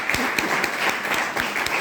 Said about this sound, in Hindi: ताली कर सकते हैं।